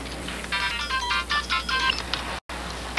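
Electronic phone ringtone right after a number is dialed, a bright trilling ring in repeated bursts, fairly close and loud, followed by a brief dropout and no speech.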